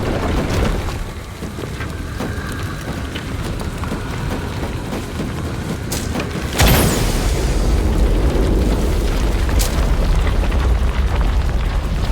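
A deep explosion booms in the video game Shadow of the Tomb Raider, one sudden loud blast midway followed by a sustained rumbling roar, with ambient game sound before it.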